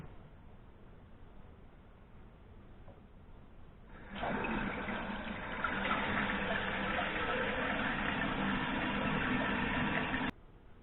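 A toilet tank refills after a new flapper is fitted, a steady rushing hiss of water that starts abruptly after a quiet stretch, holds loud and even for about six seconds, then cuts off sharply.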